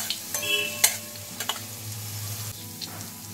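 Grated garlic sizzles steadily in hot oil in a pan as a tempering for a Bengali jute leaf curry, with a few light clinks of a spoon stirring through the continuous frying hiss and no voices.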